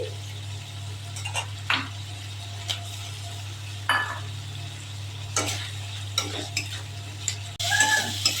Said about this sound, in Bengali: একসাথে মশলা কষিয়ে নেব। টমেটো দিয়ে দিচ্ছি।